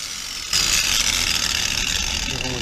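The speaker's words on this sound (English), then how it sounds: "I'm going to change to a grinding wheel and back cut that" A grinding wheel back-cuts a half-moon shape in metal for a gasser car project, a harsh steady high whine that starts abruptly and runs on loudly without a break.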